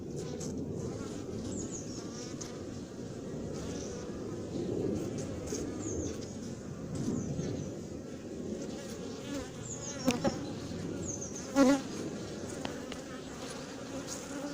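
Honeybees from a queenless colony swarm around a lifted hive frame in Montgeron, a dense, steady buzzing close by with a few passing drones and occasional sharp knocks.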